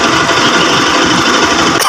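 Kawasaki Rouser 200 RS motorcycle engine idling steadily with its battery removed, a loud, continuous close-up rumble with a fast, even mechanical patter and no talk.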